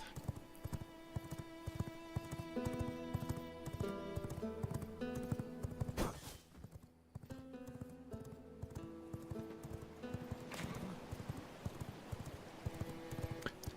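Horse hooves clip-clop in the game V Rising, a steady rhythmic trot of galloping footfalls running throughout, close and clear over a background music bed.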